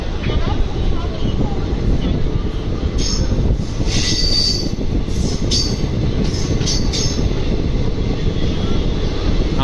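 An Amrit Bharat express train with push-pull locomotives runs near Naidupeta, giving a loud, continuous rumble of wheels on rails with repeated high metallic squeals, heard from close by.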